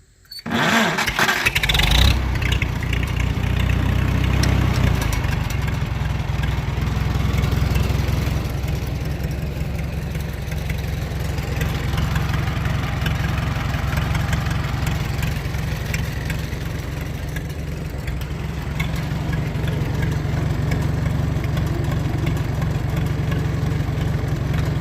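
A tractor engine cranks and catches, then settles into a steady, loud, low idle that runs on evenly and alone.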